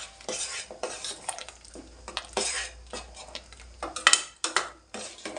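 Ground coconut and tomato paste is stirred into avarekalu sambar, a spoon scraping and clinking against the metal pot in quick irregular strokes, close and clear with no talking.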